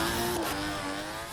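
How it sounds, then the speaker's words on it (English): A 1JZ engine soundmod in a driving game, heard from the hood view, with turbo and exhaust and an external wastegate up front: a loud, sustained engine drone with tonal whine and a brief pitch drop partway through. "I can't tell which turbo that is, but it sounds like a T51R"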